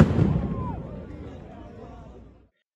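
Stun grenades set off by Israeli police after prayers against a crowd, a single loud boom that rolls and fades over about two seconds, with faint crowd noise underneath.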